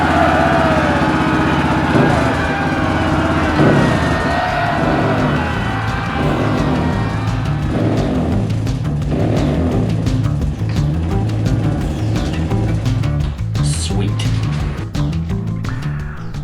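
A Honda CRF230F dirt bike with a lightened flywheel and advanced timing keyway, started on choke and then running steadily, a loud close engine drone that holds for the whole stretch with no speech.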